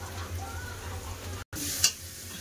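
Ground coriander, chili and turmeric sizzle in hot oil in a pan, a steady frying hiss with stirring, broken by a brief gap and then a sharper burst of sizzle.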